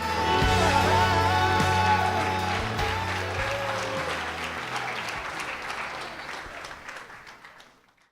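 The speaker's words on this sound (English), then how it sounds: "another big round of applause for Mr. and Mrs. Palermo" Loud applause for Mr. and Mrs. Palermo fills a wedding reception for Matt and Ashley, with sustained clapping under lingering music that slowly fades toward the end.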